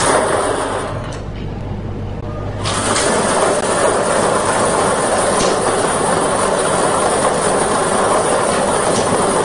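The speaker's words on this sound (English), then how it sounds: "Balls are released into the chamber, one through five, and away they go for a quick spin." Lottery balls numbered one through five tumble in a drawing machine chamber during a midday Double Draw, a loud continuous rushing rattle of air and plastic with a brief dip before it settles into a steady churn.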